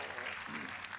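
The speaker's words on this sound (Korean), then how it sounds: "박수로 맞이하겠습니다." A church congregation claps in welcome for a vocal ensemble about to sing, a dense, steady patter of applause throughout the short moment.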